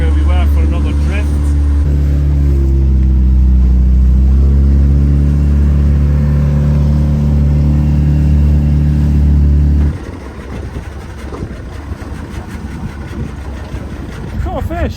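An outboard boat engine motors back for another drift while fishing off a Scottish island, a loud steady droning hum close to the microphone that cuts off abruptly near the end, leaving wind and water noise, with a person talking over it.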